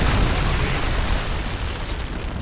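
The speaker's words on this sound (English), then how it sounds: "Friendly predator missile inbound." A predator missile blast in Call of Duty: Modern Warfare 3 rolls out as a loud, sustained, deep rumbling roar that fades only slightly over its length.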